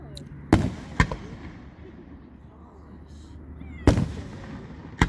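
Shooting-star fireworks burst at an outdoor display, with a few sharp, fairly close bangs ringing out at irregular intervals over a low ambient rumble.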